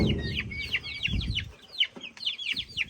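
Hens cluck and squawk repeatedly in a village poultry shed holding about 150 birds, with overlapping calls in a busy, fairly close chorus and low rustling underneath.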